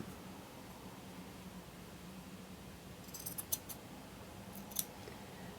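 Scissors snip through a piece of old green lace tablecloth, with a few quiet, close cuts near the end over a faint steady hum.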